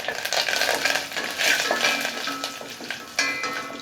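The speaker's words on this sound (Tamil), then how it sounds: "கூடவே கருவேப்பிலை, பெருங்காயத்தூள் ஒரு பிஞ்ச் போட்டுட்டு ஒரு 2 நிமிஷம் போல் இதை நல்லா வதக்கி விட்டுக்குங்க" Curry leaves and a pinch of asafoetida sauté in hot oil for pepper rasam, a close crackling sizzle with metal spoon scrapes and light clinks against the pan, no talk.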